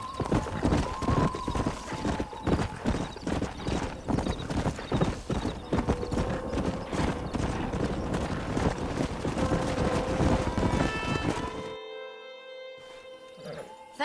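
Horse hooves clip-clop steadily on the ground in Red Dead Redemption 2, a brisk, continuous rhythm mixed with game ambience and faint tonal music, before the hoofbeats stop and the scene falls quieter with soft music near the end.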